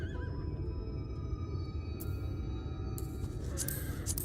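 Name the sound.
horse mount whinnying in Final Fantasy XIV video game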